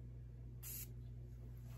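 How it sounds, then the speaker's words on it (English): One quick pump of Argos Triumph of Bacchus tobacco perfume sprayed onto a wrist gives a single short, soft hiss that stands alone over a low steady hum. "I'm just gonna do one spray because that's all you need."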